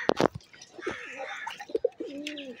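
Racing pigeons on a wet rooftop after morning rain give several low, rolling coos, close by, mixed with a few sharp flutters and faint chirps.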